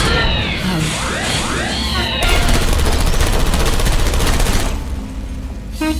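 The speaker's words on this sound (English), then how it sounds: "The turrets are shooting the servers!" Sentry turrets in Portal Stories: Mel open up on banks of servers, a loud, dense rattle of rapid gunfire that swells midway and then drops off, ending with a few scattered clicks.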